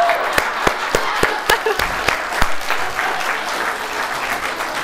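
Studio audience applause at a live comedy show, a steady wash of clapping punctuated by several sharp, close individual claps, continuing loudly for the whole stretch.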